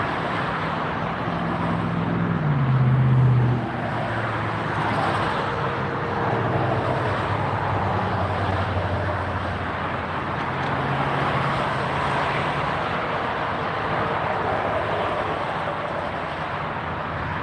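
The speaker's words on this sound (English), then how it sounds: "Here's Delta taking off for Austin, Texas. This is flight 487 and Airbus 319." A Delta Airbus A319 departs from Tampa Airport, a broad roaring jet rumble heard from a distance that swells briefly then holds steady and slowly fades, with no talking.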